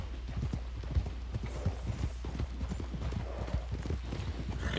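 Horse hooves clip-clop steadily in Red Dead Redemption 2 while riding through trees, a close, rhythmic trot of repeated thuds with a low background hum.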